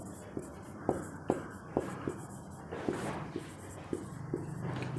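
A pen scratches an answer onto paper while a class 9 maths exercise is worked through, giving short close strokes and taps in an irregular rhythm with quiet room noise between them.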